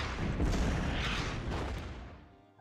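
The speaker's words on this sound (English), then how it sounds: "Definitely need to use gas attack on this guy." A gas attack in the World War I strategy game Commander: The Great War sounds as a dull, rumbling boom that swells and then slowly fades away over a couple of seconds.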